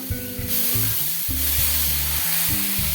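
A tomato dosa cooks on a hot pan with a steady, close sizzle that holds throughout, over a tonal melody in the background.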